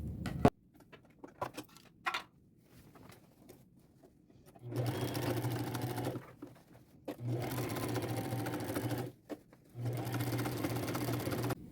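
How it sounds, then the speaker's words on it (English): A sewing machine top-stitches jeans in three sustained whirring runs separated by pauses, with a few light clicks and handling noises before the stitching starts. "Top stitching done."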